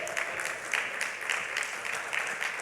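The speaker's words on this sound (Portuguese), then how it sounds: "Vamos dar uma salva de palmas, porque o Espírito revelou, irmão." Church congregation clapping together, steady rhythmic applause of moderate loudness from a room full of people, continuing throughout without talk.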